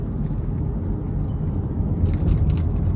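A big truck rumbles past on a road in Vietnam, a steady loud low engine drone with road roar filling the whole moment, no voices.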